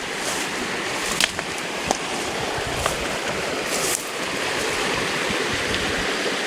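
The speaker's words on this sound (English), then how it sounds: "There's the creek." A creek on rural Northern California land with blackberry-covered banks flows steadily, a close, continuous watery rush with a few small splashes and clicks scattered throughout.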